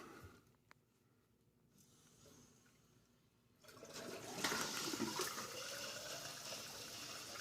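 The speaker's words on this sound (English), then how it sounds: "the outdoor hoses are now draining into the sewer" Water from outdoor hose lines rushes and gushes steadily into a sewer drain after a quiet start, a continuous loud flow.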